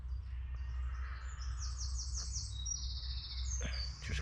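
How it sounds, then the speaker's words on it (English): Several birds sing in the countryside, one a wren, with bright trilling phrases and high chirps over a low steady rumble of wind. "I'm sure you can hear the wren back there"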